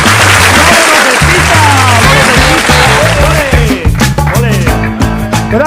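Loud, sustained applause at a comedy show, a dense wash of clapping from start to finish with tonal voices or music running underneath.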